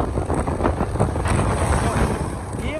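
Strong gusts buffet a parked scooter, a loud continuous roar of wind with rattling and shaking close by, heavy wind noise over the microphone.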